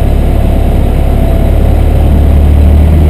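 Engine revving up as the throttle is opened, a steady loud low rumble whose pitch and level rise toward the end, heard alone with no talking.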